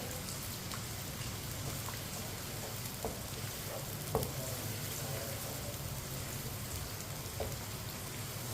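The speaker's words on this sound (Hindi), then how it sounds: "प्याज को हल्का सा ब्राउन कर लेंगे, इसे इसी तरह चम्मच चलाते हुए ब्राउन करना है।" Finely chopped onion with whole coriander and cumin seeds frying in a pan as a spoon stirs, giving a steady close crackling sizzle with faint scraping taps throughout.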